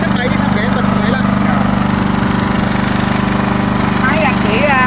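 A grass cutter engine runs steadily, loud and close, with a continuous buzzing drone throughout while a voice speaks faintly over it.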